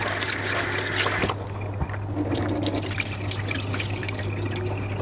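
Water sloshes and trickles steadily as red rice flakes are swirled and rinsed by hand, close up, with a low constant hum underneath.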